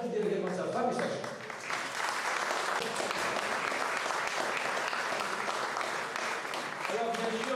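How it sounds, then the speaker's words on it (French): Audience applause at the 28th Aigle de Nice International event, a thick continuous patter of clapping from a large crowd, moderately loud and even, with murmuring voices audible at the start and end. "mais je vous demande d'applaudir également sa femme et sa chère."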